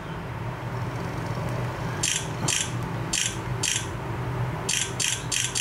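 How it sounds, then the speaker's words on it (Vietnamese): An HTC phone camera shoots in burst mode, giving rapid mechanical shutter clicks in short runs, first a few spaced bursts and then a quicker string of clicks, close and crisp over a soft room hum. "Nhấn giữ và chụp liên tục."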